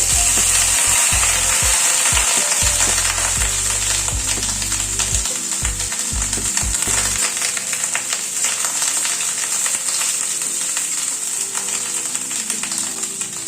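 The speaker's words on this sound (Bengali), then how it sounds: "নুন হলুদ দিয়ে পটলটাকে আগে ভেজে নিচ্ছি।" Cut pointed gourd (potol) with salt and turmeric fries in hot oil, a loud continuous sizzle and crackle with spatula scrapes and stirring knocks near the start, settling into an even spitting hiss.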